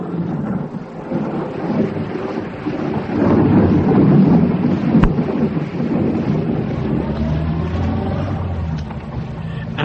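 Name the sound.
thunderstorm with thunder and rain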